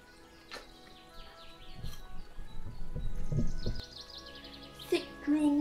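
Quiet Hoh Rainforest ambience with faint chirping birds and a soft breeze, brief calls scattered over a low, gentle background murmur.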